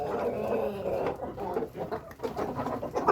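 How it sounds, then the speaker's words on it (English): Rooster clucking amid a backyard flock of hens including a Plymouth, several short vocal bursts with background voices and hen chatter throughout. "Oh, here's the rooster."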